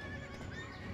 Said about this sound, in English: So you see, I tamed the horse.